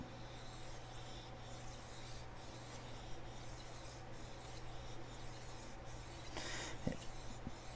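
Chef knife ground on a sharpening stone to remove the burr, a faint, steady rhythmic rasp of steel strokes on the stone, close and quiet with a brief clack near the end.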